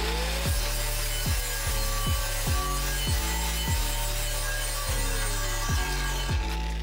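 Grinder working over a metal plate to strip rust and paint before welding, a steady droning whine broken by a regular series of rhythmic strokes, close and fairly loud throughout.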